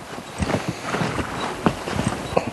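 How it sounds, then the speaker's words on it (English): A pony trots along, its hooves clip-clopping in a quick, uneven rhythm, close by and fairly loud, with no talking. "let's trot him up"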